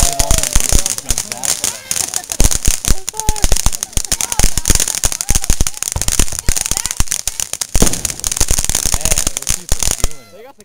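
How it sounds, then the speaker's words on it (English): Firework mortars burst outdoors in a dense run of sharp, loud cracks and pops that rattle on almost without pause, with people talking nearby. "They got the good mortars over there."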